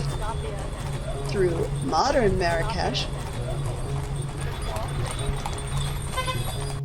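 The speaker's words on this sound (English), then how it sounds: "Experiencing a horse-drawn kaleche ride" Horse hooves clip-clop at a steady pace during a horse-drawn caleche ride through modern Marrakesh, heard close beneath a narrator's voice with faint street noise around.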